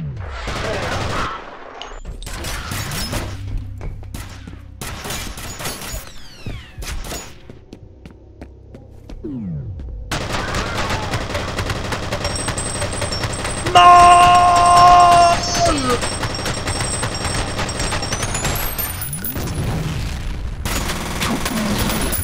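Gunfire rings out in the horror shooter F.E.A.R.: scattered loud single shots and short bursts come first, then sustained automatic fire with booming impacts and a droning background hum.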